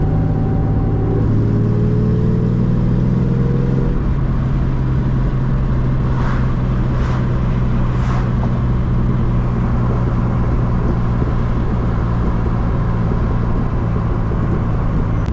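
Stock V6 in a New Edge Mustang autocross car with two-and-a-half-inch dual exhaust, rumbling steadily at idle and low revs, with a few deep pops breaking through in a short cluster midway.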